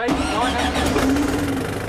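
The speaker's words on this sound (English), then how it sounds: "the engine seems to be firing and running well" A camper van bus engine with a new turbo cranks and catches, then runs on in a loud, steady mid-pitched rumble close by, with a little speech mixed in.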